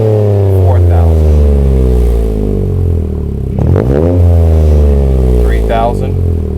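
A Toyota GR Corolla fitted with a SXTH Element dual exhaust revs up toward redline and drops back to idle, its engine note rising and falling in loud sweeps while someone talks over it.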